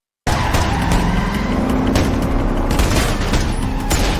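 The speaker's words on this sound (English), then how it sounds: "The attackers plant bombs on the CIA cars and detonate them, sparking a high-speed gunfight." A movie ambush on CIA cars, with bombs detonated on the vehicles during a high-speed gunfight: loud, continuous gunfire and blasts over roaring car engines, a dense battle din that starts abruptly and runs to the end.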